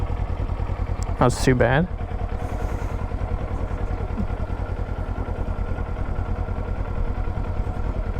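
Motorcycle engine running steadily in second gear as a rider practices clutch and throttle control in a parking lot, a continuous mid-level drone throughout, with a person speaking briefly near the start.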